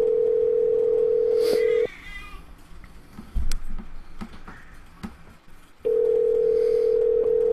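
Telephone ringback on a call to a listener during a live radio show, one long steady ring, a pause of about four seconds with faint clicks, then the next ring starting again, loud and close.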